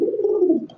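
A man imitates the cooing of pigeons, a single loud, close, low rolling coo lasting under a second, with no other sound around it.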